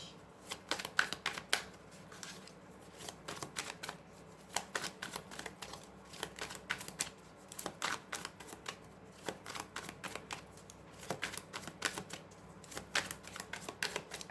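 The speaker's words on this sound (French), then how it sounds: "On va sortir 2 cartes de tarot" Tarot cards are shuffled and drawn, giving quiet, close riffling and flicking bursts that come in irregular clusters over a soft, still room.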